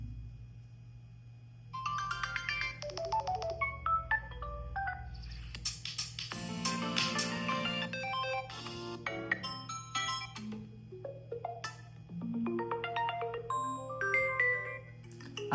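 A Samsung Galaxy S26 Ultra plays incoming-call ringtones, bright melodic chimes and electronic tones changing as different tunes are previewed one after another, steady and fairly loud with no talking.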